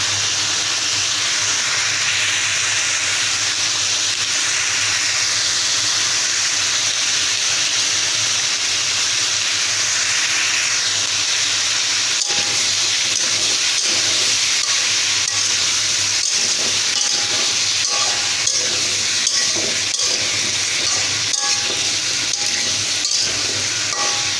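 Raw pumpkin pieces fry in hot oil with a steady hiss. Sharp crackles and pops grow denser in the second half, and no one speaks.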